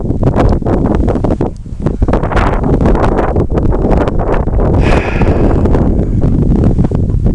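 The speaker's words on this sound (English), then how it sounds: "Trees, you can hear the wind blowing through the trees." Wind blows through trees on an outdoor walk: loud, rough, continuous roaring gusts that batter the microphone, with a faint rustle in the background and no voices.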